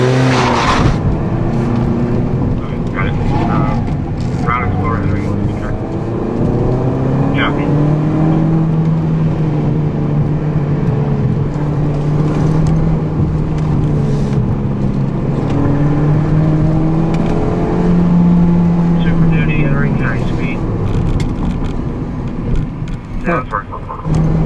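A 2014 Ford Fiesta runs an autocross course held in second gear, its engine droning steadily with rising and falling pitch as it accelerates and slows through the course, close and loud throughout.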